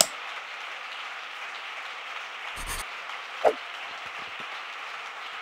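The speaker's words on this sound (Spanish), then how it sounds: "Fuerte, fuerte ese aplauso para Él." Congregation applause during a church sermon, a faint, steady wash of clapping with a couple of brief louder knocks and no talk over it.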